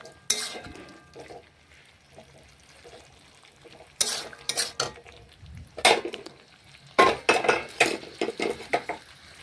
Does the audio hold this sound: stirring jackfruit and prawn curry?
yes